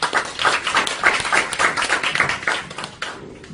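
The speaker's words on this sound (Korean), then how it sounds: "박수 한번 부탁합니다." Audience clapping in applause for a speaker at a talk on Christian literature and Dante's Divine Comedy, a dense steady patter of many hands that holds for several seconds and tapers at the end.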